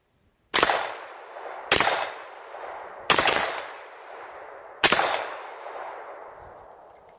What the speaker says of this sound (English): we'll try some more suppressed fire